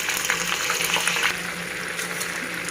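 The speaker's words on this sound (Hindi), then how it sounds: "अब इसमें मैं चिकन डाल लूँगी फ्राई होने के लिए।" Chicken pieces frying in hot oil for chicken rice give a steady, close, broadband sizzle that eases slightly partway through, with no talking.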